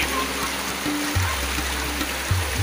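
Clear, cold river water flowing steadily nearby along a path, a constant broadband rush with faint low rumbles and no speech.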